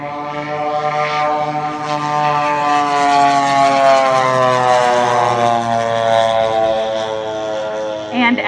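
A propeller aircraft flies at the Fox Valley Aero Club air show in 2022, its steady harmonic engine drone loud and close and gently shifting in pitch as it passes, while voices talk faintly beneath.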